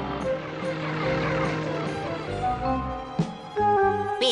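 A remote-controlled toy helicopter in a Ninja Hattori cartoon, heard as a steady whirring buzz with a tonal drone that runs throughout, with a couple of brief louder bumps near the end.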